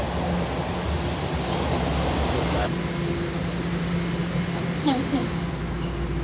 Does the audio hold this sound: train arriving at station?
yes